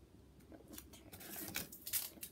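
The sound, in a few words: cutting tiny parts of cardboard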